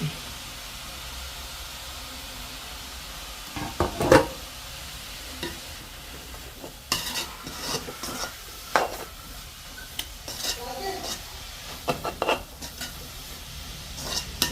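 Cabbage with grated coconut and turmeric is stirred in a pan in a Jaffna village kitchen, with scattered spoon scrapes and clinks against the pan over a faint, low sizzle and quiet background.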